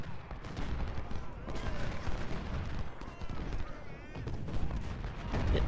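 Dense artillery fire and crackling musket volleys from the Ultimate General: Civil War game at Second Bull Run, a continuous loud battle roar with overlapping booms and rattling rifle fire, with a voice faintly talking underneath.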